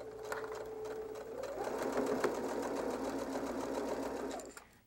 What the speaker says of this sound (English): I'm going to take this back over to the sewing machine, and with the zipper foot, I'm going to sew